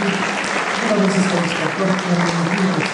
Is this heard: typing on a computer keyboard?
no